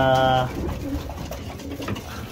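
Pigeon hens at a breeding station, with a clear tonal coo at the start, then softer bird sounds and someone talking in the background.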